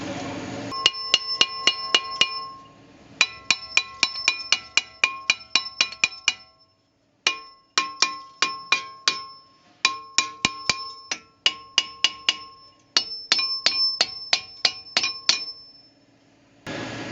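Sharp metallic clanks ring out in quick bursts of metal hammer blows, grouped in rapid runs separated by short pauses, each strike leaving a bright ringing tone.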